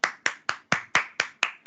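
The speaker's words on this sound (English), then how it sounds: "I want you all to give a round of applause for yourself" Eight sharp, evenly spaced hand claps, close and distinct, from a small group or single person in a training session, with no talk over them.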